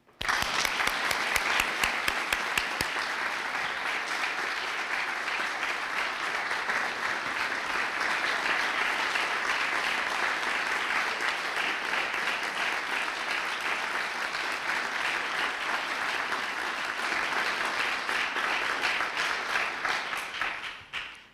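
A university audience at Mary Baldwin applauds to welcome its new president. Dense, sustained clapping fills the hall for about twenty seconds at an even level, then cuts off at the end.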